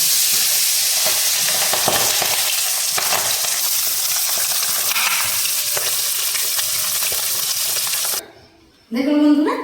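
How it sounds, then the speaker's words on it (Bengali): Pabda fish frying hard in hot oil, a loud, steady close-up sizzle that runs continuously for about eight seconds before briefly cutting out and then returning. "গরম তেলে মাছগুলোকে কড়া করে ভেজে নেব।"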